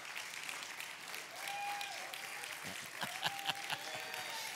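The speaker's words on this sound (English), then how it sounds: "Come on, let's give them a good round of applause." Church congregation applauding the children and youth, a soft wash of clapping with a few louder scattered claps and faint voices mixed in, distant and low in level.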